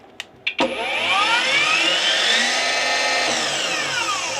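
A ProCraft PGS 28 cordless battery miter saw starts after a couple of clicks, its motor whining up smoothly to a steady loud high-pitched spin, then easing slightly.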